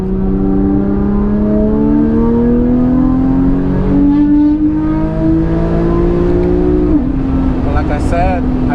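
A 2013 Infiniti G37 sedan with test pipes, a cut Y-pipe and a custom 3-inch exhaust: a loud, continuous exhaust drone that climbs steadily in pitch as the engine pulls, then drops briefly near the end before settling again.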